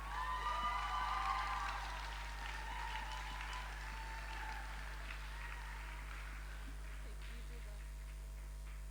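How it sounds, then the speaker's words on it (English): Audience at a 2019 AISA Global Issues Service Summit closing ceremony applauds the volunteers, a fairly faint, steady patter of clapping in a large hall that peaks early and then thins out gradually. "can we give them a warm round of applause?"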